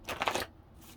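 A brief riffle of cards being shuffled, close and crisp, lasting under half a second before fading into quiet.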